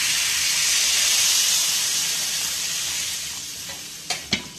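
Water poured into a hot pan of kohlrabi sets off a loud, steady steaming sizzle that slowly fades, with a couple of sharp clinks near the end.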